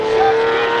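A Lamborghini Murcielago V12 engine holds a loud, close, steady high-pitched howl for a brief moment.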